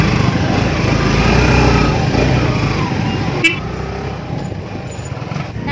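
A motorcycle engine runs steadily and fairly close on a street, a continuous broadband rumble with a brief sharp click partway through, then the drone eases slightly as it continues.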